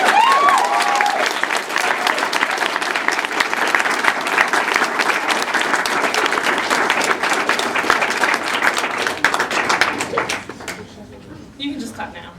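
Audience at an open mic poetry night bursts into sustained, loud applause with scattered cheers, steady for about ten seconds before thinning out to a few lingering claps.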